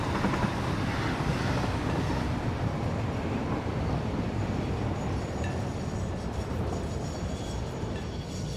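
A steady, unbroken rumble of a train running in Satisfactory, a factory-building game, rolls on with a constant low roar and wind-like hiss throughout, close and loud with no talking.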